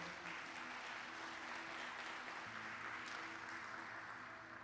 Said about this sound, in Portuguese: Dá um aplauso para Ele em nome de Jesus.